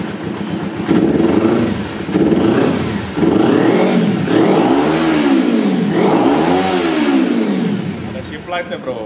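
A Kawasaki Ninja 250 R motorcycle engine starts and is revved repeatedly close by, its pitch rising and falling in a run of throttle blips before settling toward idle.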